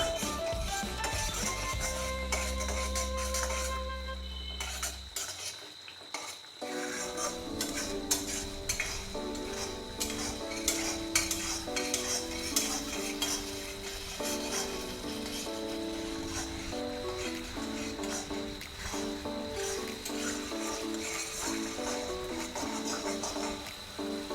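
Green chillies sizzle and fry in a pan with a touch of sugar while a utensil stirs and scrapes against the metal, a steady close crackle with frequent clinks and no talk.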